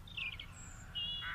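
Doves cooing in an animated children's show, soft high bird calls in two short bursts over a low steady background hum, faint and without speech.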